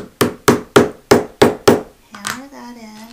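Six sharp, evenly spaced hammer blows drive a metal fitting into a sewn tote bag, close and loud, followed by a brief voiced hum.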